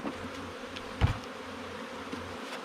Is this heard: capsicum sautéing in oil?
no